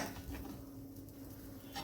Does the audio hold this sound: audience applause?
no